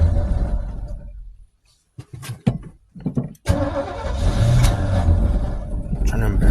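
An old rebuilt truck on a hot rod farm cranks in a few short, stuttering bursts, then catches and keeps running with a loud, steady engine roar, recorded close by.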